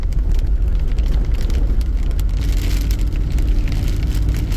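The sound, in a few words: rain falling while camping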